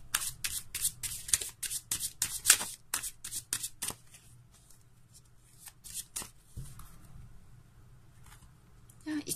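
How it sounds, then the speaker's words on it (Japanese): Tarot cards being shuffled by hand, a rapid run of crisp riffling bursts close up that thin out into sparser soft card slaps and shuffles, with a voice talking quietly in between. "これもね、シャッフルしていきます。"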